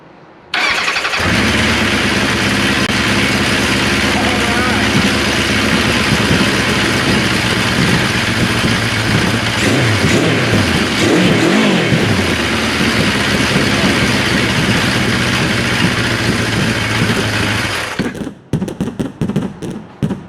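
A 1974 Kawasaki Z1 motorcycle engine, choked and fuelled for its first start after revival, catches and runs loud and close for about seventeen seconds, surging and revving unevenly before cutting out abruptly.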